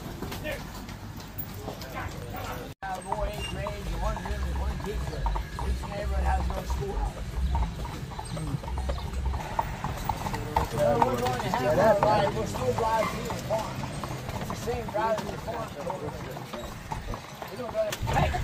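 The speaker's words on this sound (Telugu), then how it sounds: "గుర్రం బండి ఎక్కాం." An Amish horse-drawn buggy on a farm road, hooves clip-clopping in a steady rhythm close by, with a chicken or rooster heard faintly and people talking over the sound.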